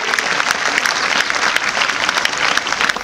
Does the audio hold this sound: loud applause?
yes